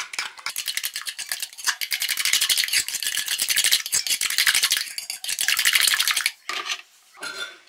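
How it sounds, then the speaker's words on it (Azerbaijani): Flour being stirred into a batter mixture in a pot for milk oladi pancakes, a brisk, continuous scraping and clicking of a utensil against the pot, loud and close, pausing briefly near the end. "Və qarışdırırıq."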